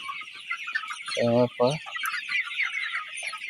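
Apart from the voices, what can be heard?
chickens clucking in a poultry shed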